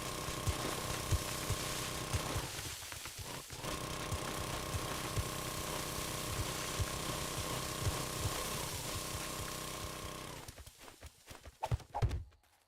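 An auger drills steadily in 7 Days to Die, a continuous droning, rattling motor grind that runs for about ten seconds, pauses briefly, then cuts out into a few scattered knocks.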